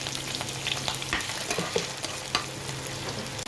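Onions fry in a pan with ginger, garlic and spices, a close steady sizzle with continual stirring and spatula scrapes.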